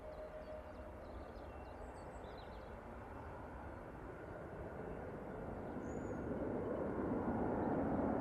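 A Ryanair plane takes off down runway 3 left at Manchester Airport, heard as a faint, distant jet rumble that steadily builds in loudness toward the end.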